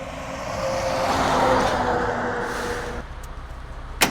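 A large tanker truck rumbles along a remote Idaho back road, its engine and tire noise swelling as it nears, then easing off, ending with a brief sharp knock.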